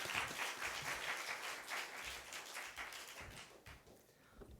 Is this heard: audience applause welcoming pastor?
yes